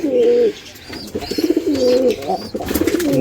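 A pair of black pigeons with feathered feet coo close up, their deep rolling calls repeating in quick succession, loud and clear.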